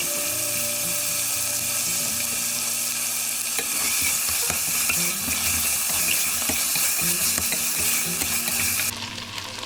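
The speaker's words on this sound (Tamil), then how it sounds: "இது கூட கொத்தமல்லி புதினா இலைகளை சேர்த்து ஒரு நிமிஷம் இதை வதக்கி விடலாம்." Coriander and mint leaves being sautéed for chicken biryani give a steady close sizzle with stirring scrapes throughout, continuous and fairly loud, with no talking.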